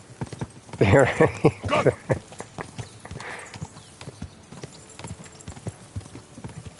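Horse hooves clip-clop in a steady, close trot in the medieval game Kingdom Come: Deliverance 2, with a person calling out briefly near the start and the hoofbeats continuing alone afterward.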